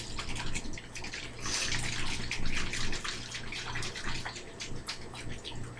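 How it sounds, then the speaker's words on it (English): Lidded plastic bottles of water for tie-dye are shaken hard, producing rapid repeated sloshing and splashing bursts up close, loud and irregular, with no speech over them. "Then you want to put the lids back on and shake them up real nice."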